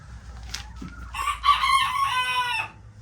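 Chickens, including a red hen, cluck at close range. A rooster's crow rises loud and wavering over the clucking for about a second and a half before it fades.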